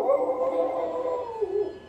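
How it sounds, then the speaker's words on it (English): A pet dog howls in a drawn-out, wavering tone, close and fairly loud, heard on its own beneath a video game playing in the background. "Don't mind my doggy"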